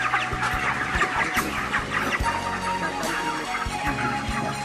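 A flock of broiler chickens on a farm clucks steadily while being weighed, with many overlapping close calls and occasional sharper squawks, fairly loud and with no voices.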